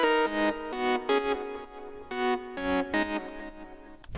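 A bright synth lead plays a bouncy, rhythmic minimal house melody of short repeated notes with some held tones, loud and clear with nothing else underneath.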